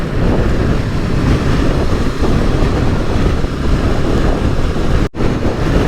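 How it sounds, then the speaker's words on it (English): Strong wind buffets the microphone during adventure trail riding on a Honda NX 500 motorcycle, a loud continuous roaring rumble with gusty texture and one brief dropout near the end, no talking. "Very windy today everyone"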